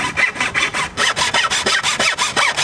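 Rapid rhythmic rasping strokes of a saw cutting, a dozen or so bursts in quick succession, close and fairly loud with no talking.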